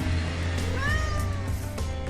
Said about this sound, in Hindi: उन्होंने देखा कि वहाँ चिड़िया की जगह एक बिल्ली पानी पी रही थी।